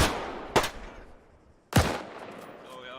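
Two sharp rifle shots in Arma 3 during a medical training exercise, each loud crack trailing into a fading echo, spaced about a second apart.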